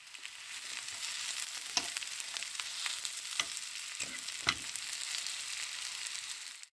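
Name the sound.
onions and mushrooms frying in a pan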